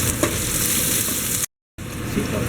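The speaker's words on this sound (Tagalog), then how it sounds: "Ayan, ginigisa niya na yung luya," Ginger, garlic and onion sauté in a hot pan for a crab dish, a loud continuous close sizzle, briefly cut to silence before the hissing resumes.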